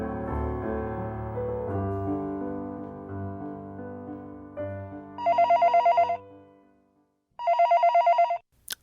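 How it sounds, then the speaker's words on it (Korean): A telephone bell rings in two loud, rapid trilling bursts, cutting in as a sustained low musical tone fades out, with no talk over it. "어느 날 하숙집으로 다급한 전화가 걸려왔습니다."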